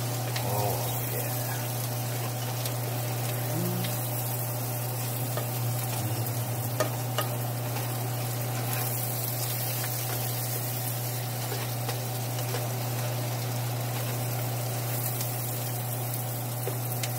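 Onions sauteing in a pan, a steady low sizzle and frying hiss running evenly throughout with occasional faint stirring scrapes, no voices.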